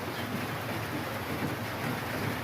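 Heavy rain pours during Typhoon Uwan in the Philippines, a dense, steady roar of downpour that fills the whole stretch evenly, with no voices.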